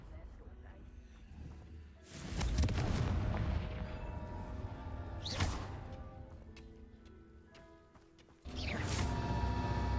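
The Confringo fire spell in Hogwarts Legacy goes off in three loud, booming blasts spread across the span, with crackling debris and game sound filling the gaps between them.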